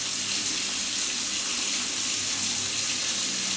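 A water tap opened to full flow gushes in a constant, loud broadband rush that stays even from start to finish, with no voices over it.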